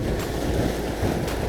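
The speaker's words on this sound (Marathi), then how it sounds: "लाटा हळूहळू वाढायला लागले" Choppy sea water washing around a small fishing boat as the waves slowly build, with steady broadband surge and wind buffeting the microphone, no talk.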